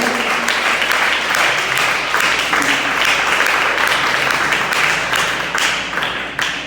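Church congregation applauding during a sermon, a steady, full burst of many hands clapping at close range, holding evenly throughout before easing slightly at the close.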